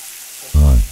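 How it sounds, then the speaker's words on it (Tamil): Ginger garlic paste with salt hits a hot pan in a short, loud sizzle while being sautéed for spring onion chicken; a quiet moment comes just before the burst. "இஞ்சி பூண்டோட பச்சை வாடை போகிற வரைக்கும் வதக்கணுங்க."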